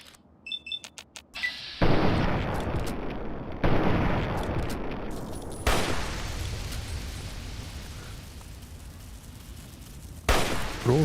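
Heavy gunfire from Fallout 3 combat bursts out in loud, dense blasts after a few scattered shots, with sustained rumbling between volleys and another sharp burst near the end.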